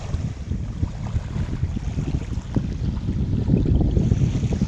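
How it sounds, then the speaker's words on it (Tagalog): Strong wind buffets the microphone in low, gusty rumbles that swell and build toward the end, with faint water sounds underneath. "Ang lakas na naman ng hangin."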